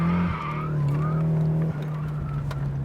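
Rear of a car stepping out in a brief slide, tires skidding over a steady, loud engine drone that holds throughout, with a short dip near the middle.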